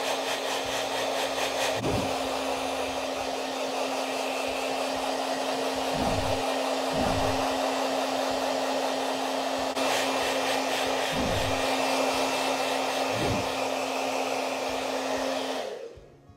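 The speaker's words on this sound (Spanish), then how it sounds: "Ahora lo que vamos a hacer es secarlo muy bien." A hair dryer blows steadily while drying a Shih Tzu dog, a loud continuous whirring hum with a steady motor whine and a few brief knocks, switching off at the end.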